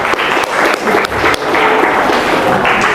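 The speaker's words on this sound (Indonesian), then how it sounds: "tepuk tangan untuk teknologinya" An audience at a school leadership seminar claps, loud and close, with uneven bursts of hand claps and brief dips, a busy room sound under the clapping.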